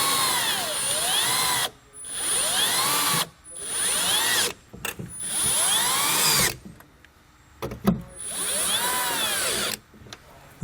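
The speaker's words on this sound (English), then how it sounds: "then we can just go back and snug it down with our 10mm socket" A power tool whirs in several loud bursts, its whine rising and falling, as stud nuts on a towing mirror for a 2006 Dodge are snugged down with a 10mm socket, with short silent pauses between runs.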